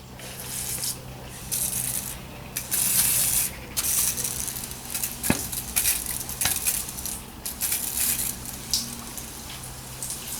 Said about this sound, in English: Just rinsing it with some brake fluid cleaner.